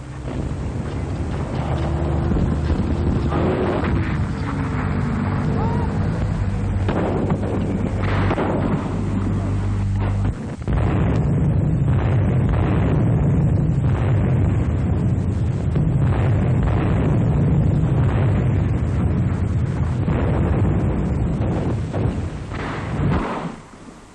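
Heavy rumbling battle noise with deep booms and blasts, continuous and loud, like Centurion tank guns firing amid explosions.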